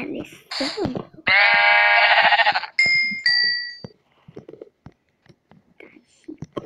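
A sheep bleats in the Minecraft video game, a loud nasal wavering cry lasting over a second, followed by shorter game tones, clicks and quiet voices in the background.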